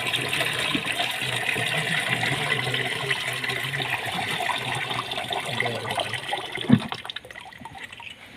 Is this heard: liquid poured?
yes